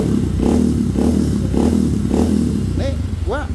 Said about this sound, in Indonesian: motor ini yang gua geber